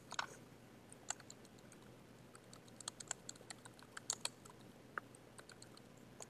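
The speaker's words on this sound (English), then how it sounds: "you'll type your key search words into the search engine's search box" Faint, sparse clicks of a computer keyboard as search words are typed, scattered irregular keystrokes over a quiet background hiss.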